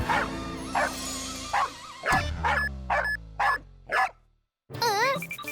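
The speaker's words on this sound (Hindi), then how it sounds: "इस मशीन में से कुत्ते की आवाज कैसे निकल रही है?" Repeated sharp dog barks from a machine in a cartoon ring out in a steady series, some with a slightly electronic tone, followed after a pause by a wavering whine.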